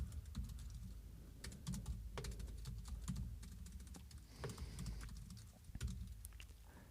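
Quick bursts of clicking keys as code is typed on a computer keyboard, irregular close taps with short pauses between runs, alone without talk.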